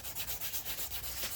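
Hand sanding a curved Honda Civic bumper with 400-grit sandpaper, dry, fast back-and-forth rasping strokes in a steady rhythm of about seven passes per second, close and scratchy.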